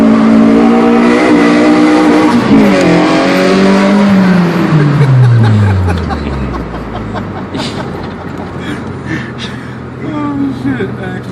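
Car with a B series engine driving on the road, loud and close: the engine revs high, then its pitch sweeps down steadily as it slows, and settles into a rougher idle-like rumble while a voice talks over it.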